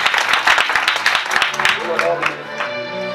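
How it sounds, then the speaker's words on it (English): A church congregation at a mission service claps in short, uneven bursts while voices rise and call out over the clapping, fading somewhat toward the end. "Clap to Jesus."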